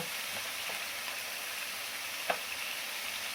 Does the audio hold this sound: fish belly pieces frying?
yes